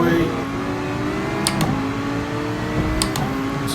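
Race car engine in Gran Turismo Sport holds a steady, rising drone with layered engine tones, moderately loud and close, with brief clicks over it and a voice speaking.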